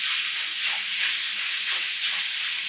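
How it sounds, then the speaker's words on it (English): Ground beef sizzling and hissing in a hot pan on a stovetop, a steady close frying crackle with a bright high hiss and no talking. "So I'm going to go ahead and add my ground beef in here."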